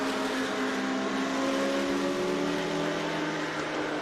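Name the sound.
Renault Indy Lights race car engine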